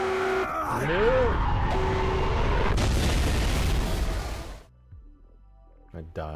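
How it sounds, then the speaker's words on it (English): Lich vehicle exploding in Halo 3, a loud booming blast with crackling debris roaring for several seconds, cut off abruptly and followed by quieter game sounds and brief talk. "I died, so I didn't get to hear the full explosion."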